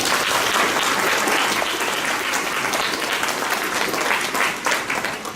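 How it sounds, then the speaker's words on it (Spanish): Audience at a social work panel discussion applauds a speaker's introduction, loud dense clapping throughout that tapers slightly toward the end. "Un aplauso, por favor"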